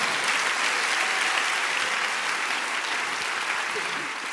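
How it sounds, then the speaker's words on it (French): Theatre audience at a mentalist show applauding steadily, a dense, even wash of many hands clapping that holds full strength throughout and eases only slightly at the end. "on peut l'applaudir."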